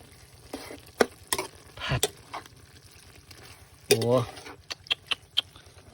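Termite mushrooms stir-fried with pork belly in a pan, with several sharp scraping and clattering bursts of stirring over a low, steady sizzle, and a voice briefly in the background.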